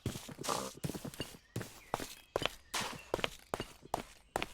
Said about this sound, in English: There's different sounds when you're stepping.